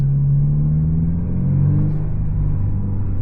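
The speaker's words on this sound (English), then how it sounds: "Now the BRZ doesn't really have that boxer rumble sound that the old like 2004 WRX STIs have, but it sounds close enough for my taste" Low, steady engine rumble from a Subaru BRZ boxer engine, a continuous deep drone with slight swells in pitch as it idles or runs, loud and close with no voices.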